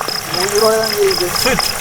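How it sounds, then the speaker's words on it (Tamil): Heavy rain pours down in a steady broadband hiss during a night fishing trip outdoors, while people talk over it close by. "யாராச்சும் இந்த கொட்டுற மழையில இலைய பிடிச்சி சமைப்பாங்களா"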